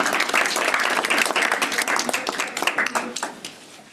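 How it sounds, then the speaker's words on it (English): An audience claps for a guest speaker at a technology and leadership talk, loud steady applause that thins and fades toward the end. "a round of applause for Nicky"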